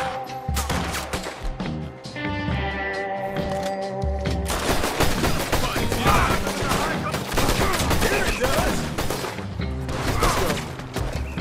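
Gunfire in the video game Red Dead Redemption 2 comes as dense, rapid volleys of shots with booming impacts, continuing throughout over low game sounds and occasional voices.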